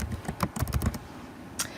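Quick clicky keystrokes on a computer keyboard tap out a short burst of about eight presses, then pause before one final key hit, close and fairly quiet with no talk.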